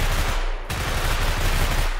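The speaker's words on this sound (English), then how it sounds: "That's also how I created the current gunshot sound." A layered gunshot sound effect built for a first-person shooter template in the Dreams video game on PS4 gives a loud, dense burst of gunfire. A sharp crack stands out partway through.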